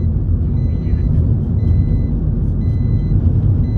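A vehicle drives past a house with a heavy, continuous low rumble. Short high beeps repeat at intervals over it.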